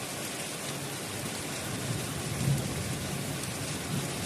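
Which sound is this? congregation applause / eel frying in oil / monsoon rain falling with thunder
monsoon rain falling with thunder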